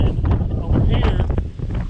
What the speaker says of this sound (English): the wind's really blowing, I hope you can hear me